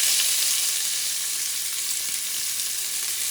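Chopped yellow onion sizzles steadily in a hot pan over medium heat, a close, even hiss of frying with no voices.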